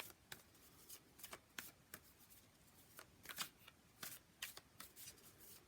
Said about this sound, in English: I'm going to pull one more, and then I'm going to pull some clarifiers from another deck